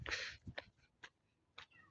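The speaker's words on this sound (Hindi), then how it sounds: "वो देखे हमारी गाड़ी के नीचे बिल्ली बैठी है" A small cat sitting under a parked car outdoors gives several short meows and soft calls, faint and spaced apart, with no talking over it.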